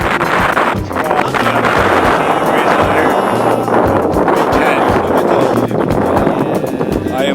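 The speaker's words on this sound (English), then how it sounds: "It's windy." Strong wind buffeting the microphone on a frozen lake during ice fishing in Maine in December, a constant loud roar with gusty rumble and no speech.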